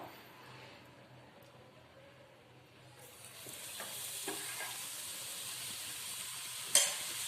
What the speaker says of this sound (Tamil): இப்போ நம்ம பூந்தி எல்லாம் பொரிச்சு எடுத்துக்க போகிறோம்